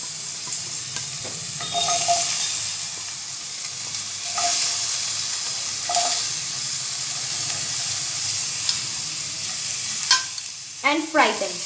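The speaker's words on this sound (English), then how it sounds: "After the garlic starts changing color, then I will add some cubed capsicum." Cubed capsicum and garlic frying in a pan, a steady loud sizzle with occasional stirring scrapes throughout.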